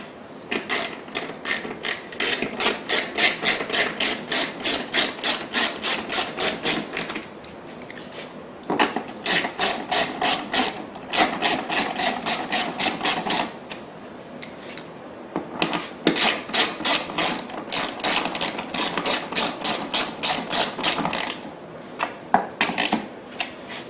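A power tool or hand tool working bolts into a housing during installation of a wireless remote shut-off on an Echo BearCat 3500, heard as repeated bursts of rapid rasping clicks separated by short pauses, close and steady.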